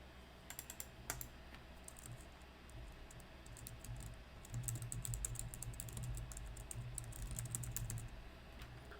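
Steady typing on a computer keyboard as a component title is entered, rapid clustered keystrokes that grow busier and denser in the second half, close and fairly quiet with no talk.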